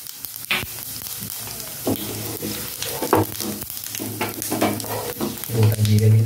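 Whole cumin seeds fry in hot oil for an Odisha dalma, a close, loud sizzle and crackle broken by repeated stirring and scraping strokes that grow stronger toward the end.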